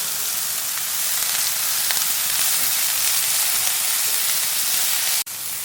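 Squid roast with onions and salt sizzling hard in a frying pan, a dense, loud, continuous hiss that stays even throughout and cuts off abruptly near the end, with no voices.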